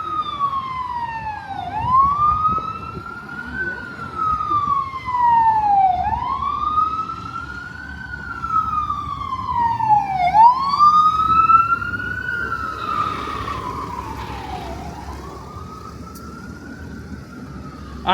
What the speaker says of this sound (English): I'm not gonna fight the ambulance.